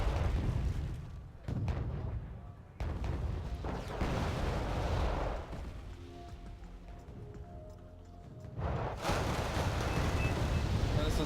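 Heavy bombing in the real-time strategy game Wargame Red Dragon, a run of booming explosions and crackling impacts that come in bursts, fade to a quieter stretch, then crash back loud, with faint voices in places.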